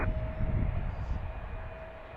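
Airplane taking off from runway 19 at DCA, a loud broad engine roar close at first and slowly easing as it pulls away, with a steady whine through the rumble.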